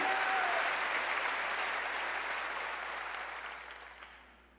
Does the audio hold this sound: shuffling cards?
no